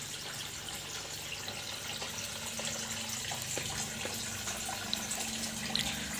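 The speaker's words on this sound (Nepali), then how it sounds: "ल अब पानी हालौँ है त।" Water is poured into a home aquarium as it is refilled after cleaning, a steady, fairly quiet rushing and splashing with no talk.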